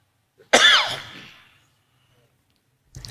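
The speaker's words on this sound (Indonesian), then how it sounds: "Kayak batuk gitu." A single sharp, loud cough with a rough, trailing throat-clearing tail, followed by quiet before a faint sound at the end.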